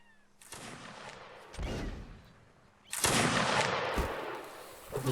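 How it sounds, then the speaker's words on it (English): Musket volleys crack out at a Napoleonic-era battle reenactment of the 1801 fight for Egypt, with several loud, booming shots and rolling echoes at close range over outdoor noise. "Taking pot shots at the enemy."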